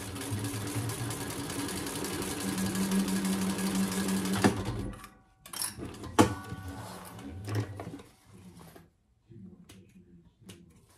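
A sewing machine runs steadily for about four seconds basting fabric pieces of a commuter bag, then stops, followed by a few short clicks and handling noises while someone speaks.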